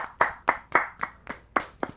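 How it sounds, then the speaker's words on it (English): Hand clapping in a short round, about eight separate sharp claps at a steady, even pace, close and fairly quiet, with no voices over them. "Short round of applause."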